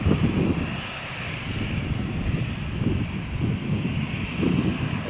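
An Air France Airbus A319 airliner roars at Malaga Airport on a stormy morning. The jet engine rumble holds steady from some distance, mixed with gusty wind noise.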